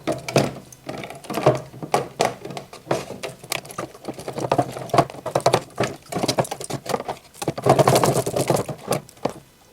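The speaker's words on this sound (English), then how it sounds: "Now I'm gonna wash carburetor in gasoline to remove dirt and dust from the surface" A small engine carburetor is scrubbed and sloshed in gasoline, giving a busy stream of close, irregular splashing and clicking taps with a wet, pattering rhythm throughout.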